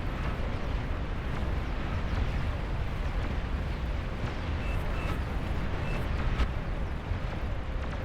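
Artillery fire from a Ragnarok gun hitting Titans in the Beyond All Reason strategy game, a dense continuous rumble of distant booms and explosions with no clear separate shots.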